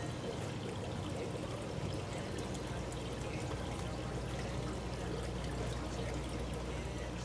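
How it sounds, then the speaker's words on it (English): Aquarium sponge filter being squeezed out, a steady, continuous splashing pour of water with dense broadband trickling, close and fairly loud for the whole stretch without pauses. "I take the sponge filter apart and rigorously squeeze all the dirt out of the sponge."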